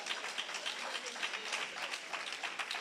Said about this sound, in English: Come on, clap them up.